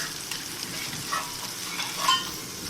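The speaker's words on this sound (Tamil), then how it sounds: "மசாலாவெல்லாம் போட்டு மசாலாவோட பச்சை வாசனை போகிற வரையும் கொஞ்சம் நல்லா வணக்கிட வேண்டியது." Turmeric, chili and coriander powder masala frying in a pan for a banana-leaf fish fry, giving a steady crackling sizzle with faint stirring, moderate in level and without voices.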